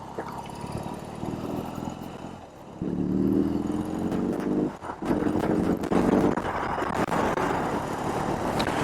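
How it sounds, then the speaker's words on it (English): A new BMW R18 motorcycle engine idling, then rising in short throttle blips as the boxer twin revs up and settles, close and fairly loud with a rough, throbbing tone. "you blip the throttle and the bike twists"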